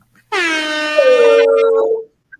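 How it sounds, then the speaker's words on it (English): A loud, blaring air horn blast sounds for close to two seconds, dipping slightly in pitch partway through before cutting off. "every time you hit the air horn, they go, yeah"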